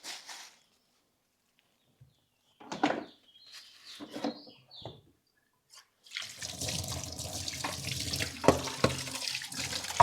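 Fresh fish pieces washed with salt under running tap water: brief splashes and trickles at first, then a steady loud gush of water over handled fish with clatter, no talk.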